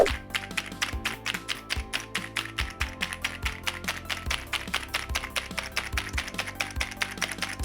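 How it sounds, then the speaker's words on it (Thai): Rapid, random ten-finger typing on an Ajazz AK820 Max mechanical keyboard, a dense, steady stream of close, crisp key clacks with no talking. "พิมพ์นะฮะแบบมั่ว ๆ เลย"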